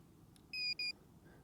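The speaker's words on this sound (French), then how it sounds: "On reste appuyé, on entend 2 bips." An inexpensive metal detector gives two short, high electronic beeps in quick succession while its sensitivity setting changes, clear and close over a quiet background.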